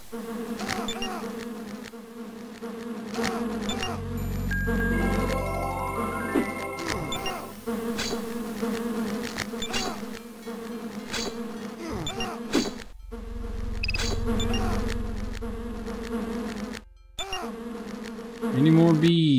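Bees buzzing in the DOS game Lands of Lore: The Throne of Chaos, a dense, continuous insect drone mixed with game effects and thuds, with brief dropouts toward the end.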